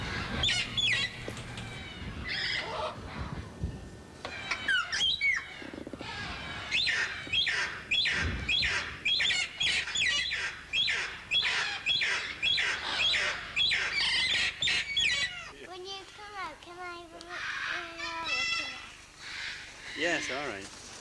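A bird squawks and chirps in a rapid series of sharp, repeated calls close by, later shifting to warbling, tonal notes, with people talking in between.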